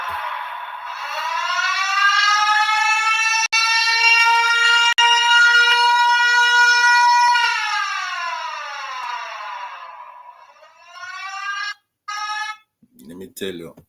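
Japanese disaster warning siren for earthquake and tsunami, a loud sustained wailing tone that holds steady and then slides down and breaks off at the end.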